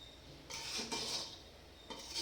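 A ladle scrapes and stirs through sardine fish curry in a metal pot, with a few soft, close scraping strokes and no voices.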